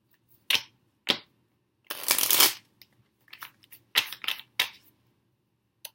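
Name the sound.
tarot cards being reshuffled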